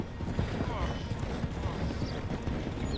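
Horse hooves clip-clop at a steady trot in the Red Dead Redemption video game, mixed with other game sounds while people talk over the gameplay.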